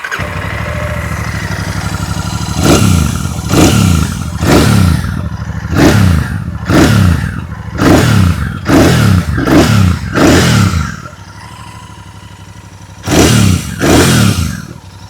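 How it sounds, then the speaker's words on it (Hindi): A 2026 Royal Enfield Bullet 650 Twin, black, idles with a steady low thump, then is revved repeatedly in sharp throttle blips that swell and fall back, close and loud, with a pause before a final pair of revs. "आइए अब सुन लेते हैं इस बाइक की एग्जॉस्ट नोट।"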